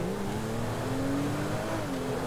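A modded Benefactor car's engine revs steadily in Grand Theft Auto 5, a continuous droning roar with a slowly rising pitch, close and even in loudness throughout.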